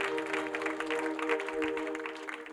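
A congregation at a church service claps for God in a soft, steady patter of applause, with a sustained musical tone underneath, fairly quiet and continuous throughout.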